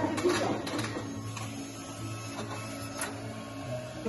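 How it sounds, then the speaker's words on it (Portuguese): A braille printer runs steadily, its printing mechanism making a continuous mechanical clatter with brief sharper ticks over a low hum, close by and without speech. "Então o que eu mandei lá do computador vem para cá, ele imprime e sai aqui embaixo com o braille."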